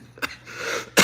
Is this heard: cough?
yes